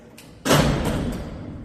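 A heavy 250-pound steel cell door at Alcatraz prison swings shut and lands with one loud, close thud and slam, followed by a metallic rumble that carries on as it settles.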